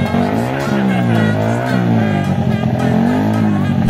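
Powerful trail bikes racing between two teams in a money-game event, engines wailing loud and close with rising and falling pitch as riders rev and shift, alone without talk.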